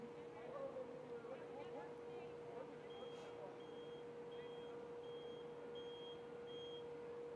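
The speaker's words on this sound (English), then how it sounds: "The beeping." A steady series of short, high electronic beeps repeats at even intervals over a constant low hum and faint background noise, during a Formula E session.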